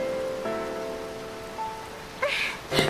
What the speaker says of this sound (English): I might as well have tried to stop the rain.